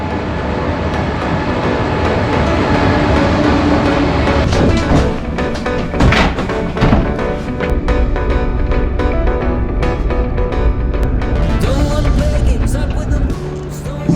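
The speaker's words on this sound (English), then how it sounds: "That is our train." A train rolls into a station in Seoul, a loud, steady rumble with rail clatter and brakes building over about fourteen seconds, close by and continuous, with faint voices mixed in.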